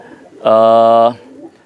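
A high-flying Tomprang pigeon gives a single clear, close coo lasting about half a second, standing out loudly above faint background murmur.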